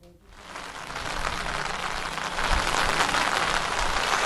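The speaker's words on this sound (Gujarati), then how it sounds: "હજી પણ ધોધમાર વરસાદ ચાલુ છે" Heavy monsoon downpour in the Bopal-Ghuma area of Ahmedabad, a dense, steady hiss of rain that swells slightly and stays loud throughout, close by with no voices over it.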